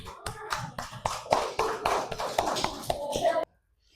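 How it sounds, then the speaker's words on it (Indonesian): A classroom of students claps for a presenting group, a quick run of distinct hand claps lasting about three seconds before stopping abruptly into silence. "beri tepuk tangan dulu untuk kelompok 3"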